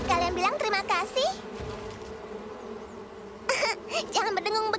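Cartoon bees buzz in wavering, whiny bursts, loud and close, fading briefly to a low hum in the middle before swelling again.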